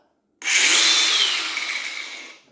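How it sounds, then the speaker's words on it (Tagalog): An angle grinder spins up abruptly and whines loudly for about two seconds, tested before cutting a pork leg, then begins to wind down, with no voices. "Nakuha ko na yung grainer. Tingnan natin kung gumagana."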